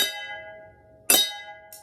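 Mallet strikes on a microtonal xylophone ring out as a sub-minor chord, with a bright metallic decay. A fresh strike lands partway through and a third begins right at the end.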